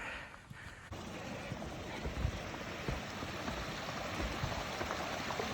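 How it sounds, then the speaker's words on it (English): A babbling brook on a Lake District hillside runs steadily nearby, a continuous gurgling rush of water with some wind buffeting at the start. "Babbling Brook."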